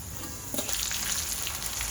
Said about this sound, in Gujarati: આ તો ખાલી ક્રિસ્પી કરવા જેટલું જ તળી લેવાનું